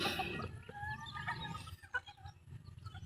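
Native bantam chickens in a backyard give soft, scattered clucks and short calls, faint and fairly near, with no one speaking.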